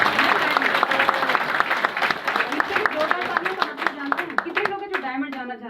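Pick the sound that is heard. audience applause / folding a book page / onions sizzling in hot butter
audience applause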